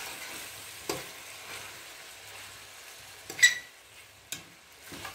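A tripe curry with potatoes simmers gently over low heat, a faint steady bubbling hiss broken by a few soft clicks and pops from the pot.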